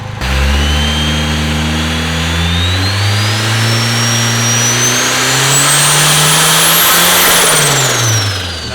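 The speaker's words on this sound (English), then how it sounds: "can you slowly rev it up?" A rear-wheel-drive Honda Civic engine revs on a dyno, climbing steadily from idle to a loud high-pitched scream before easing back down, with no talking.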